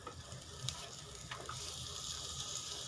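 Fried pointed gourd (potol) sizzling steadily in a pan as it is stirred, with a few light utensil scrapes over the continuous frying hiss.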